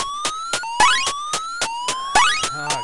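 An alarm siren in the video game Infiltrator wails with steady rising electronic tones, cut through by repeated sharp pulses and a few sweeping blasts, loud and close throughout.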